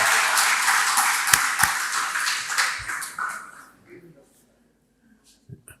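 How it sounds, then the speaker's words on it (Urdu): Enthusiastic applause from an audience at a college scholarship ceremony greets vice chancellor Dr Bilal Khan, dense clapping with a few sharp slaps for about three seconds, then fading out into near silence. "بڑا بھرپور تالیوں میں ڈاکٹر بلال خان کا ان کا استقبال کیا جائے"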